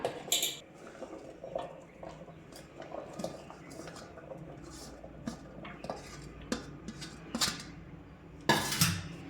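Cut beetroot and carrot pieces being moved into a mixer jar in a home kitchen, giving close clattering clinks of utensils and dishes in scattered bursts, with a louder clatter near the end.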